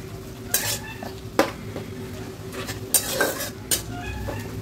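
Chili powder being stirred into a cooked spice paste in a pan for a spicy fish curry, with repeated scraping strokes in short bursts, close and fairly loud, with no talking.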